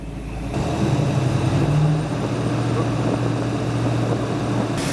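The engine of a 1970 Dodge Challenger R/T convertible holds a steady, close, droning idle around 1,500 RPM, with a low hum throughout and voices faintly in the background.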